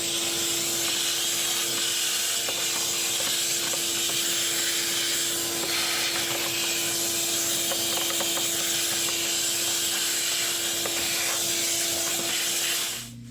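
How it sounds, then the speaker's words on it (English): A vacuum cleaner draws dust and dirt out of the engine air filter box of a 2014 VW Passat TDI, a loud, continuous hissing roar held steady throughout before cutting off at the very end. "so I will bring my vacuum and get rid of it"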